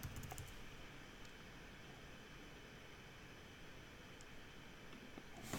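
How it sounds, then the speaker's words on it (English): Steady keystrokes on a computer keyboard tapping away under a constant hiss of background noise, fairly faint and continuous with no talking. "Let's just type that in and see."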